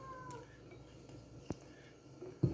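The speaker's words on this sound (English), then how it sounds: "My cat's talking in the background." A cat meows softly in a home kitchen where bread is being made, a few faint calls with a brief clatter under quiet background noise.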